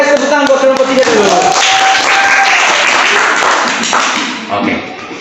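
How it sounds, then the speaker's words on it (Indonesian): A classroom claps for a student group, with dense continuous applause and scattered taps filling the room, loud and steady before thinning out near the end, voices mixed in. "Kasih tepuk tangan buat kelompok 3 dulu."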